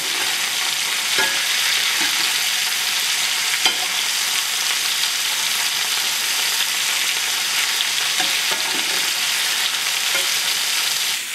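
Venison liver fries in butter after a flip, a dense continuous sizzle and crackle at close range with a few faint clicks scattered through.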